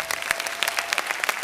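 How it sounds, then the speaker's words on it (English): An audience gives a burst of dense applause at a youth event, many hands clapping together, loud and sustained for a moment before the performers are called up on stage. "big round of applause to that"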